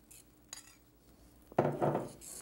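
A utensil stirs a cornstarch and cold-water mixture in a pot, with a couple of light clinks followed by a louder scraping swirl near the end.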